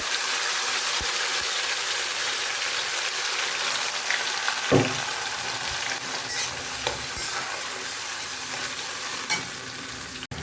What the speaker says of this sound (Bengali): এবার মিক্সিতে বেটে রাখা মশলাটা এই তেলের মধ্যে দিয়ে দেব।